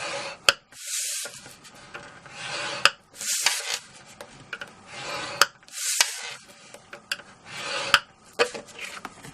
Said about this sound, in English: the lid, we are just going to score all 4 sides at 1 inch